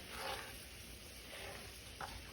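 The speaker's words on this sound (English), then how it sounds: "just give it a little stir" Heavy whipping cream being stirred in a big frying pan that holds leftover salmon oil, giving a soft, steady sizzle with faint scraping throughout and a small clink near the end.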